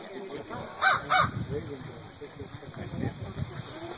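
Crows at a bird rescue give two loud, close caws in quick succession, then fade into a busy outdoor background with faint murmuring voices.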